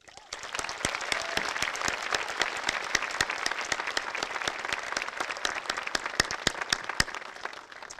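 A large audience at a 2017 Cedar Springs high school graduation ceremony claps in sustained, dense applause for several seconds, loud and continuous with scattered sharper claps throughout.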